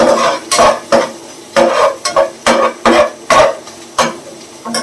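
A spoon stirs potato pulao with ginger paste in a pan, giving a series of distinct scraping strokes in an uneven rhythm, close and fairly loud.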